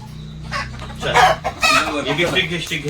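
Chickens cluck loudly and close by in a village house, with a rooster crowing among them, the calls dense and overlapping in a steady stretch.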